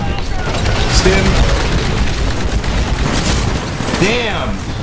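Sustained bursts of gunfire in Titanfall multiplayer crackle and boom close and loud throughout, with dense overlapping shots and a brief whooshing effect near the end.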